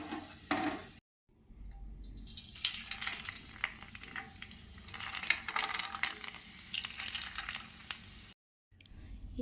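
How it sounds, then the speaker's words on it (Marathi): Potato wafers deep-fry in hot oil with a close, crackling bubbling hiss and light clinks of a slotted spoon, broken by two short silent gaps. "हे पहा, किती छान फ्राय होत आहेत."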